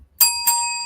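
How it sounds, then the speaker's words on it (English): A bell rings twice in quick succession, two bright metallic dings, each with a sustained shimmering tone that rings on without any talking. "Could always replace it with a bell."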